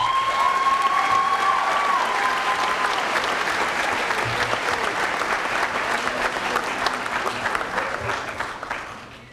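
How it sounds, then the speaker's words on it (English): A crowd at a high school graduation ceremony applauds steadily with dense clapping and a few cheers, sustained for several seconds before fading out at the end. "that deserves a round of applause."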